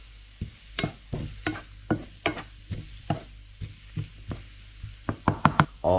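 Floured squid crackles and sizzles in hot oil in short bursts, with sharp pops and taps scattered across the clip, fairly close and moderately loud.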